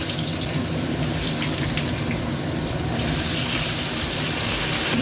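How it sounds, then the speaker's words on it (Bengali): Sliced pointed gourd (potol) fries in hot oil left over from frying fish, giving a loud, steady, dense sizzle that holds evenly from start to finish with no voices. "এখানে দেখো এই মাছের তেলটার মধ্যেই আমি এখন পটলগুলো ভেজে নেব"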